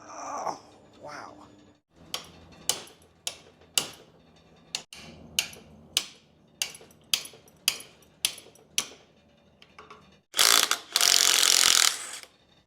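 A ratchet wrench works on an old 1947 Dodge, clicking in a regular run of sharp strokes with short pauses between them, then a louder rough burst near the end.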